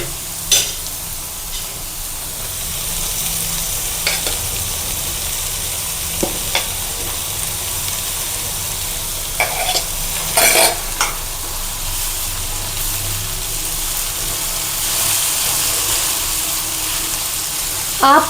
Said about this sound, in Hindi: अब हम इसमें कद्दूकस किए हुए आलू डालते हैं।